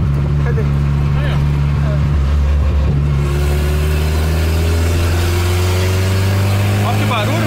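Turbocharged Volkswagen Gol engine running loud and close, holding a steady low drone that shifts pitch partway through as it revs, with people talking over it.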